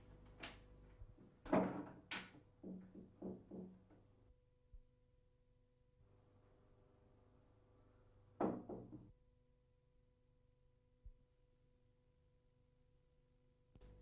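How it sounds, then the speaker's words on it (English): A door hung on newly fitted hinges is swung open and shut, producing a quick series of wooden knocks and clunks, a later louder bang with rattle, then a faint final tap in an otherwise quiet room. "Replace the hinge pins and test the door."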